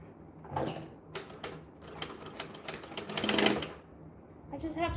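A sewing machine back-stitches a bag with bursts of rapid mechanical clatter that swell and pause, close by, with a voice heard faintly underneath.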